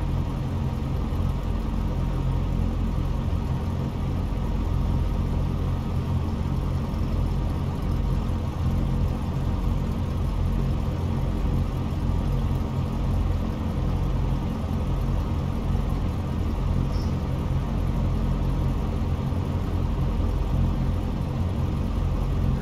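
A Boeing 747 airliner in the X-Plane 11 flight simulator roars steadily through its takeoff run, a loud, continuous low engine drone and whine that holds without a break throughout.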